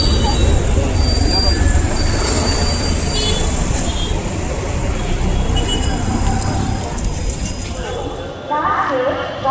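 An Indian Railways Kushinagar superfast express rumbles at a station, with a steady loud roar of rolling wagons and faint wheel squeals, while a person talks over it.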